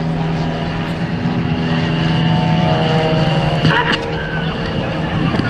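A propeller airplane at an airshow flies overhead, a loud, steady engine drone filling the clip with a constant hum, and voices talk briefly over the noise.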